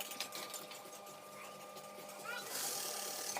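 A sewing machine stitches a salwar with a rubber (elastic) waistband, running steadily at close range beneath someone speaking, its whir growing louder and brighter near the end.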